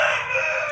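A single sustained, strongly harmonic crow comes from a free-range village rooster, loud and close, holding steady through a brief moment.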